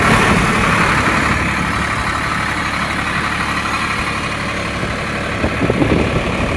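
A farm tractor engine running steadily nearby, a loud continuous low idling drone with a few slight bumps near the end, no voices over it.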